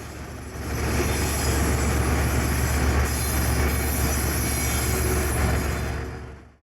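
A Ventura County Railway ALCO locomotive-hauled train in Oxnard, California, rolling past with a steady loud rumble and grinding wheel noise that holds for several seconds before cutting off abruptly.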